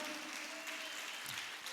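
A church congregation at the MegaFest 2025 worship gathering claps loudly and continuously, a dense wash of applause with no pause.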